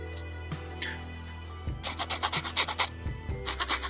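A file rasps a nub off a Bandai 1/144 HG Gundam plastic model part, beginning with a few faint scrapes and then a run of quick rhythmic strokes, close and crisp over a faint background hum, with no talking.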